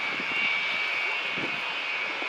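The Avro Vulcan XH558 jet bomber touches down at RIAT 2013 on its 16 main wheels, heard as a steady, distant engine roar with a high whine and no talk.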